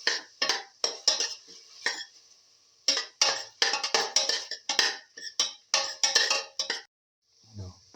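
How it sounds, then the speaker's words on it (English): Tomato mix sauteing in a pan, stirred with a metal utensil that scrapes and clinks in quick repeated strokes, close and crisp, with a short pause midway and a faint sizzle at the end. "Thoroughly saute mix for 2 to 3 minutes."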